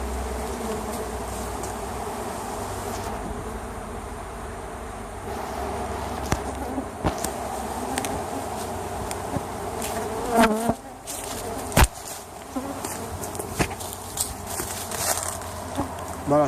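A honeybee swarm buzzes near a hive, a continuous close hum of many wings with individual bees zipping past the microphone, plus a few sharp knocks and rustles in the second half.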